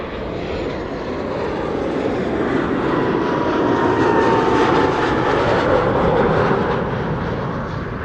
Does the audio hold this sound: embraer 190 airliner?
yes